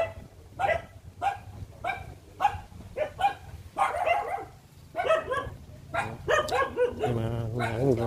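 A dog barks repeatedly near a house door, a steady run of loud, close barks with whimpery yips near the end, and people talk in the background.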